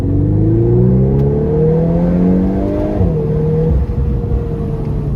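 Volkswagen Golf 8R engine accelerating through its seven-speed DSG dual-clutch gearbox, a steady muffled rising drone with climbing harmonics, a quick gear change near the middle, then continued pull, loud and close with no talk.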